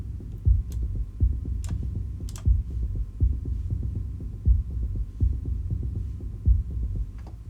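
A synthesized drum pattern from the Bright Spitter kit in Sonicsmiths' The Foundry loops steadily, with deep thumping kicks on a regular beat and occasional short bright hits, no voices present.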